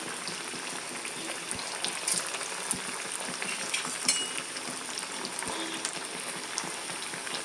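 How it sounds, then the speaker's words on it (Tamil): Rava urundai balls deep-fry in hot oil, making a soft, continuous bubbling fizz dotted with occasional sharper pops, moderately quiet and close. "இப்போ நம்ம செஞ்சு வச்சுருக்கதை எண்ணெயில் போட்டு பொரிச்சு எடுத்துக்கோம்."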